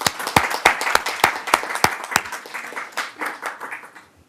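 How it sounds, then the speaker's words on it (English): A meeting audience applauds, sharp individual claps in a loose rhythm that thins out and fades over about four seconds. "Can I get applause, please?"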